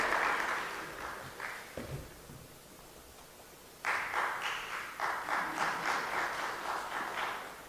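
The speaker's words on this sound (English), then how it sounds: "Let's give him a round of applause, colleagues" Modest applause from a conference audience rises and falls, brief claps early, a lull, then a steadier patter of clapping from a smallish crowd in a hall.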